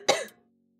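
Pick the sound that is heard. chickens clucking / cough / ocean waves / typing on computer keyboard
cough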